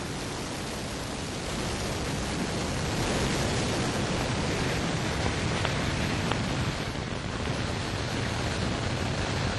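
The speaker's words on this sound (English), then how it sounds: "Main engine ignition and liftoff of the Atlas V rocket with LRO LCROSS" An Atlas V rocket with RD-180 main engine lifts off carrying the LRO and LCROSS lunar spacecraft, a steady, dense, crackling roar heard from a distance that swells slightly and holds without pause.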